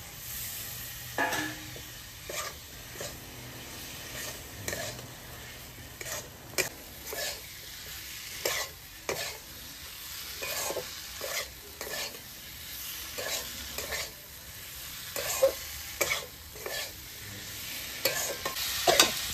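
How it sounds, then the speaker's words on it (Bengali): Boiled chicken being stir-fried in spice paste, with a soft sizzle under repeated scraping and clattering of a spoon against the pan in uneven bursts, close and moderately loud, with no talking. "কষে নিয়ে কষানো হয়ে গেছে, এবার আমি সিদ্ধ করা মাংসগুলো দিয়ে দেবো।"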